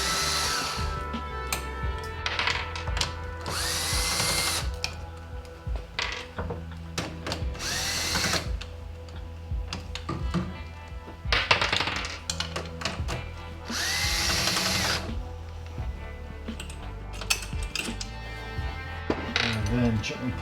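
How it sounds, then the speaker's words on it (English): A power tool whirs in repeated short bursts while removing four 10mm bolts from the control panel of a Honda EU3000IS generator, mixed with metallic clinks and handling noise, close and busy throughout. "Now at this point we can remove the 4 10mm bolts that are"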